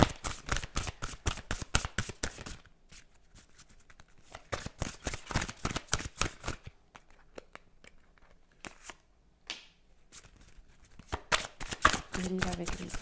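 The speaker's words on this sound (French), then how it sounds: "Et j'ai envie de tirer une dernière carte là," Tarot cards being shuffled and drawn, a close riffling flutter in repeated bursts separated by quieter pauses, with a voice talking faintly between them.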